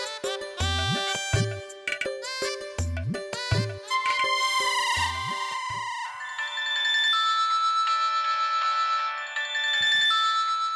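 A phone plays a loud electronic ringtone: a beat-driven melody with rhythmic thumps, then sustained chiming tones, heard alone in a scene from an Assamese TV serial.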